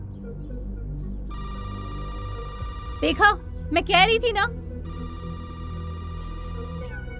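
A telephone rings steadily in a repeating electronic tone, close and continuous, while someone briefly speaks over it.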